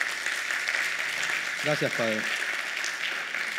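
Church congregation applause, a soft continuous patter of clapping throughout, briefly overlapped by a short spoken phrase from a nearby voice in the middle.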